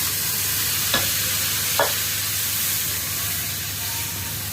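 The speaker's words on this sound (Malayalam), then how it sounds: "ഉരുളക്കിഴങ്ങ് കുറച്ച് മഞ്ഞൾപ്പൊടി ഇട്ട് അല്പം ഉപ്പിട്ടൊന്ന് വേവിച്ച് വെച്ചിട്ടുണ്ട്. അപ്പോൾ അത് ഇതിലേക്ക് ആഡ് ചെയ്ത് കൊടുക്കാം." Boiled potatoes with turmeric and salt go into a frying pan for a crab curry and get stirred, giving a steady close sizzle with two brief scraping strokes of the spoon early on.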